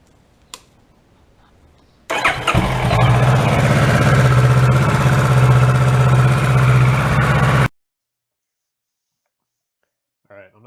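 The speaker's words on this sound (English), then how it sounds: "We're just going to start the bike up now, let it go through a heat cycle" A 2014 Kawasaki Ninja 650 motorcycle is started up and idles during a coolant change, giving a steady, loud, close engine drone for about five seconds before it cuts out abruptly into silence.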